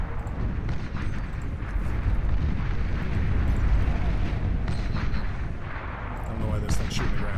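Artillery pounding the ground in the strategy game Beyond All Reason, a dense, continuous rumble of overlapping booming shots and bursts, loud and steady throughout.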